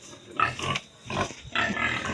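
Several pigs grunting and snorting at feeding time on a small farm, in three dense bursts of close, rough grunts separated by brief lulls.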